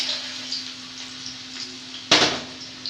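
Carrots fry in a pan with cumin seeds while making homemade dalia, a soft steady sizzle over a faint hum, then a sudden louder hissing burst that slowly settles.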